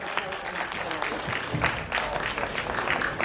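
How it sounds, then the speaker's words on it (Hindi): Audience at an award ceremony breaks into dense, sustained applause, a broad crackle of many hands clapping at a moderate distance, continuous for a few seconds with no talk over it. "जोरदार ताली की गड़गड़ हो जाए दोस्तों फॉर विजय बेनेडिक्ट जी।"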